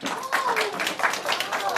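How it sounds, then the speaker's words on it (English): A few people clap in quick, uneven bursts in a TV news studio, close and fairly light, while voices talk over the clapping. "Give her a big round of applause."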